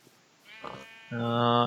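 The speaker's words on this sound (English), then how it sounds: "Sheep and pigs and things. We do have quite a few sheep." Sheep in the Minecraft game bleat in a short wavering call, near and moderately loud, following a brief softer sound.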